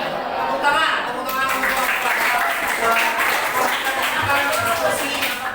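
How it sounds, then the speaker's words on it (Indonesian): A classroom audience applauds a student group after their presentation, with steady, fairly loud clapping that swells after a second and continues alongside voices talking. "Tepuk tangan untuk"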